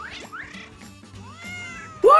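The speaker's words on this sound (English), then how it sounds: "How many cats are there?" Cartoon cats meow in a series of short rising cries, ending in a loud close yowl, over faint background sounds.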